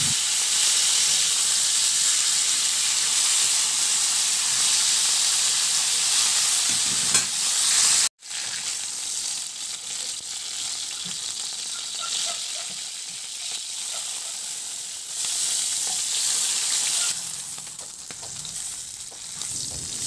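Pork chops sizzle and hiss loudly in a hot pan. The frying noise is dense and steady, dips briefly once, then carries on close and unbroken.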